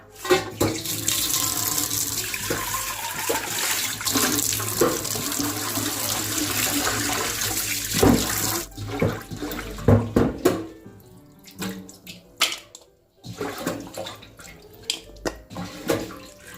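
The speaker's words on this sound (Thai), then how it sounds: "เราก็จะทำการล้างน้ำสะอาดค่ะ สัก2-3 ครั้งนะคะ" Small fish being rinsed in clean water: a steady rush of running water and splashing at first, then intermittent sloshes and trickles as the water is stirred, close and fairly loud, with no talking.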